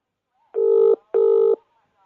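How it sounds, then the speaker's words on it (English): Two evenly spaced phone tones, each about half a second long, sound clearly and loudly over a silent background with no talk. "The phone cut out, or Jordan, I'll bloody call him back."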